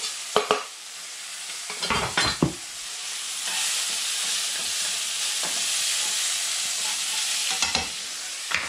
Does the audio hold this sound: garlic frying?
yes